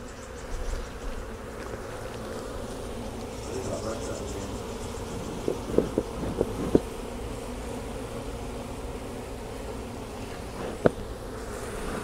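A crowd of honey bees hums around a hive frame in a continuous, close buzz, with a few sharp knocks and clicks breaking through and a brief bit of talking near the start.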